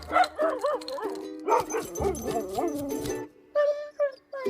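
A dog in a television advertisement whimpers, yips and barks in short broken bursts, loud and close, with a pause before two final high whines.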